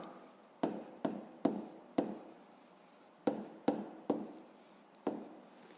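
A pen scratches across paper while a maths exercise is being worked, with short strokes and taps in an irregular rhythm, close and fairly quiet, with no talking.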